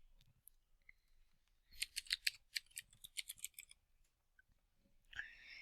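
A quick burst of close, crisp clicks from fingers typing on a computer keyboard. A dozen or so key presses come in an uneven rhythm, followed by a pause and then a short scrape, with no voices.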